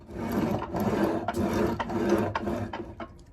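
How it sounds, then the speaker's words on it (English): A freshly lubricated bench vise is slid in and out, giving a continuous close metallic rasp and rub with a few knocks and clicks as the jaw moves, and no talking. "just slide this in and out to make sure that it covers all the surfaces inside that you can't see"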